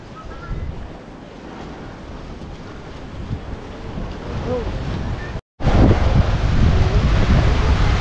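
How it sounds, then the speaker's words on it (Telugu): Sea waves crash against the rocks below a coastal viewpoint in Goa, a steady roaring surge heavily mixed with wind buffeting the microphone, with one brief dropout. "దీనికి వచ్చి అలలు కొడతా ఉంటే పైకి ఎగురుతాయి అలలు నీళ్ళు"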